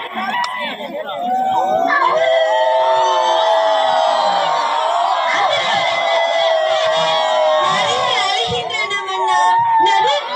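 Performers in a school annual-day play imitate jackals howling, a loud chorus of sustained, wavering howls from several voices that fills the hall for about ten seconds, with crowd noise underneath.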